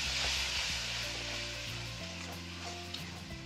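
Roasted spices sizzle steadily in a hot pan after a splash of water is added, a loud close frying hiss with low humming underneath, no voices.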